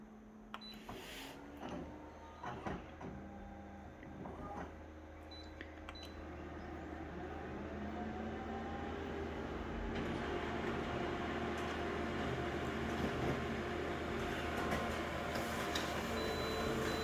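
Printer or copier making an enlarged colour copy: faint ticks and clicks at first, then a steadily building mechanical whir and hum as the sheet feeds through, heard close and alone.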